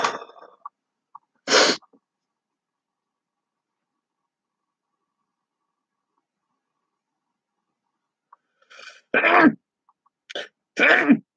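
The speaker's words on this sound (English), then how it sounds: "Nice little sneezing fit, no?" A person sneezes in a short fit. One sharp burst comes near the start after some throat noise, then a long silence, then several more close, loud sneezes and snorts cluster at the end.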